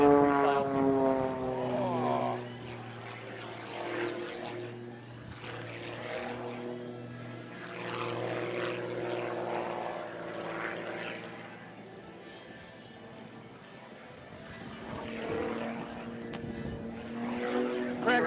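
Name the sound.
aerobatic propeller airplane flying freestyle sequence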